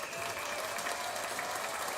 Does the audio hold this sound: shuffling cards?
no